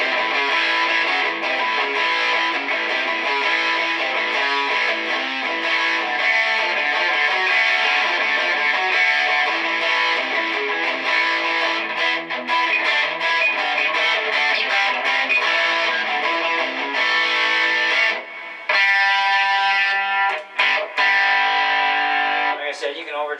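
Electric guitar played through a Marshall MG100 HDFX amp and 4x12 cabinet on the second overdrive channel, loud and distorted, with sustained chords that run continuously before breaking into choppier, staccato strums near the end.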